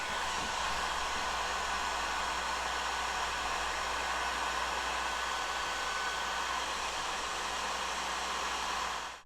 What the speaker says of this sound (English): now we're watching footage of shrinking the heat shrink tubing